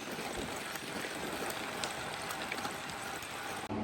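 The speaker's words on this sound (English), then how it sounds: "It's raining." Steady rain pattering during a ride on a Brompton folding bike on a London to Paris club tour, a dense continuous hiss that stays level throughout with no voices.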